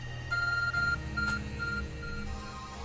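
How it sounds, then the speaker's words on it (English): The Arc Phone in Pokémon Legends: Arceus gives a series of short, soft electronic beeps in an uneven pattern over a low, steady background hum. "Your arc phone is beeping."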